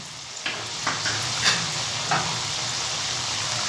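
Potatoes with ginger paste cook in a pan as part of a fish dish with mango and pumpkin, giving a steady moderate sizzle broken by a few distinct spatula scrapes and knocks spaced about every half second, with no talk.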